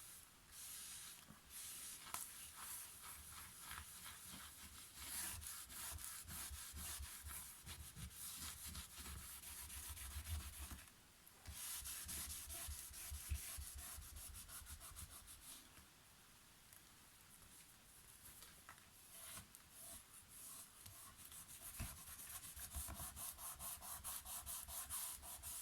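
An applicator rubbed firmly back and forth over a suitcase cover's edges, a soft continuous scrubbing and brushing hiss with brief pauses, faint and close, no speech.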